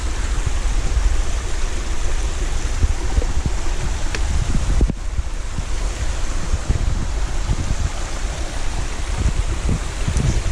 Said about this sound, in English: This waterfall's dropping all the way down there.